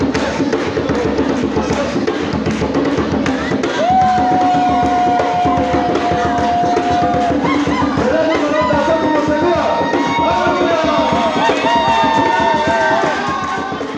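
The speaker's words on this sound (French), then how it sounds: "Acclamation." A congregation at a church praise and thanksgiving festival cheers and acclaims in a dense, continuous crowd roar, with raised voices standing out over the sustained noise.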